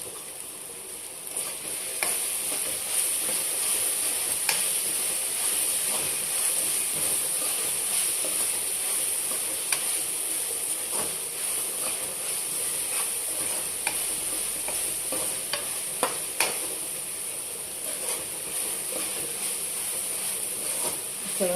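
Curry leaves fry in hot oil in a pan while being stirred, giving a steady loud sizzle and hiss throughout, with occasional faint scrapes and ticks from the stirring.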